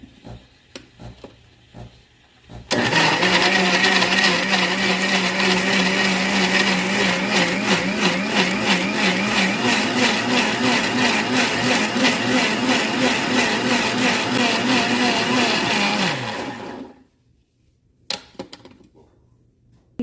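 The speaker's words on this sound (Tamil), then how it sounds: "மிக்ஸி ஜாரில் நல்லா அரைச்சிட்டு எடுத்துக்கலாம்." A loud blender whirs and grinds a berry smoothie with milk and water continuously for about fourteen seconds at high speed, its pitch wavering as the contents churn, then cuts off abruptly.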